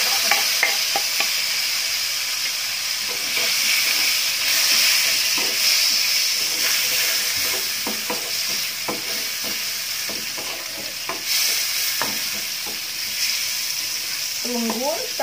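Garlic fries in hot oil for a homemade take on a KFC-style dish, giving a loud, continuous sizzle with intermittent scraping from stirring, up close.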